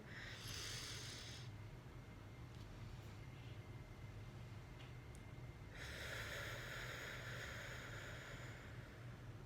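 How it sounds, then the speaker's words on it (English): Slow deep-breathing exercise for anxiety relief: two long airy breaths, one at the start and a second from the middle onward, with a quiet pause between, soft and close under a low steady hum. "that's an example of deep breathing"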